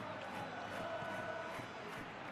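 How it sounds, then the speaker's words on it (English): Football stadium crowd at the Champions League final between Real Madrid and Manchester City, a dense, steady roar of cheering that holds at a constant level throughout. "Crowd appreciates good football all round there."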